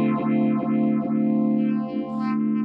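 Electric guitar chord held through a tremolo effect with a triangle wave in the Yonac ToneStack Pro app, the volume pulsing in a smooth, regular swell about twice a second, with a slight distorted edge and no talking.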